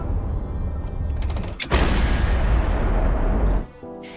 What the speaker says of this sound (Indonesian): ledakan maha dahsyat berhasil menghancurkan gubuk tersebut hingga rata menjadi